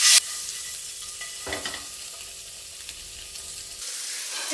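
Chopped onions with green and red chillies sauté in a pan for egg tandoor masala, a soft, even sizzle with a couple of stirring scrapes and no voices.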